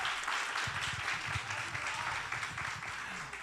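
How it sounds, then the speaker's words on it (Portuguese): Steady applause from a talk-show studio audience for guests on a Valentine's Day special, a dense wash of clapping at moderate, even level throughout. "dá mais uma salva de palmas aí para eles"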